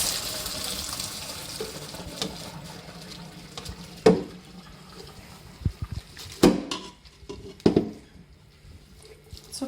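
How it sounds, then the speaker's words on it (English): A pot of noodle cooking water is poured into a colander in a kitchen sink, giving a faint running trickle with several sharp splashes and clatters standing out at irregular moments. "Put your colander in the sink and slowly pour the water out of"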